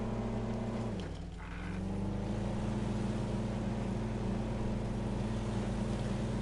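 Loud, continuous truck engine drone in the SnowRunner video game, a heavy rumbling hum that dips briefly as the revs shift, then holds steady close-up throughout.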